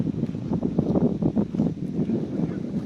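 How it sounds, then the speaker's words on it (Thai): Strong cool wind blowing outdoors near the sea, a continuous, fluctuating low rushing and buffeting against the microphone that swells and eases over a few seconds. "โอ้ลมเย็นลมแรงมากนะครับ"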